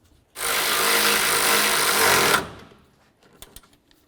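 A power tool snugs up the radiator mount bolts on a 2003-08 Toyota Matrix, running in one loud, steady two-second burst with a close, dense whir, then winding down and stopping, followed by a few faint light knocks.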